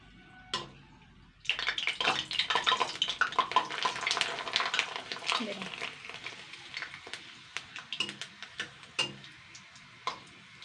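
Papad dropped into hot refined oil, bursting into a loud crackling sizzle that gradually thins to lighter spattering and scattered pops, close, with a few taps before it starts.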